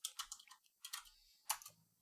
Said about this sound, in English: typing is hard